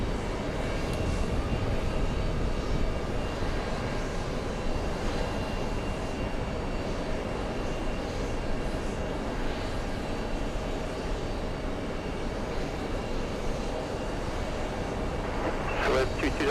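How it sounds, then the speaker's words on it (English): An Emirates Airbus A380 on runway 22 left at the airport, a broad steady jet roar holding throughout at moderate distance, with wind-like noise mixed in and talk over it. "Back-to-back A380s on 22 left. Here comes Emirates."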